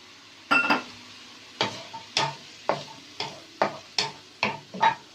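Chicken simmers in a pan after water has gone in, under a soft sizzle, while a spoon scrapes and knocks against the pan about nine times in a loose, repeated rhythm, close and fairly loud.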